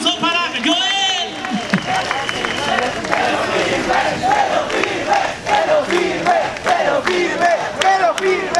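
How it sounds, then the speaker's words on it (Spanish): A festival crowd at Friki Festival 2023 in Lima, Peru, cheers loudly with shouting voices and scattered clapping. The roar is sustained and rises and falls over several seconds, close and lively. "El aplauso para Joel"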